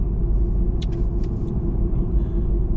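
A truck engine runs steadily at close range, a loud continuous low rumble filling the clip with no speech, only a few faint brief clicks above the drone.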